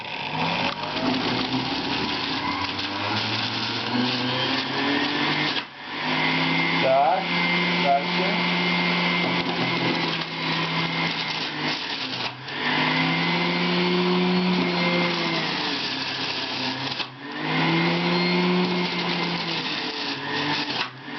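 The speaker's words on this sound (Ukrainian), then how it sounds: "Зараз ми включаємо на п'яту швидкість, та морку тільки на п'яту швидкість." Laretti LR 7403 juicer running on its fifth speed while juicing carrots, a steady motor whine with a low hum, interrupted by brief dips and surges as pieces are pushed through; talk can be heard over it.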